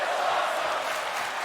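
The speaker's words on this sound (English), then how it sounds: "The crowd is screaming out, this is awesome." A wrestling arena crowd in WWE 2K20 roars in a dense, sustained wash of shouting and chanting, loud and continuous without a break.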